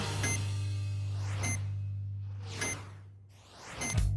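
A swinging pendulum triggers a short, bright electronic beep each time it passes the bottom, four evenly spaced beeps over a steady low hum, with a faint voice underneath.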